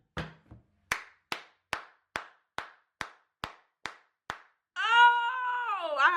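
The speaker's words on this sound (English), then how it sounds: "I was trying to slow clap, but I was too excited and it just turned into a fast clap" Hand clapping, about ten sharp claps that start slow and then speed up into a quick steady run, followed by a distinct cat meow at the end.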